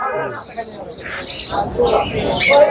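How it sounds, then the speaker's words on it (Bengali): High bright chirps from lovebirds, repeated in short bursts, heard under and between nearby people talking at a bird market. "এগুলো লাভবার্ড পাখি।"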